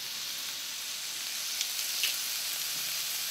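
Garlic sizzles steadily in a hot pan with diced, partly steamed potatoes, a constant bright frying hiss with a few faint pops and no talking.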